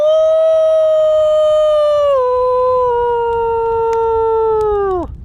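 A person imitates a wolf howl in one long, sustained tone that slowly falls in pitch and drops off sharply at the end, close and loud.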